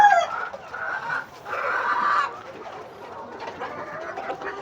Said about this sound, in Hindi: मुर्गों ने शोर बहुत मचाया हुआ है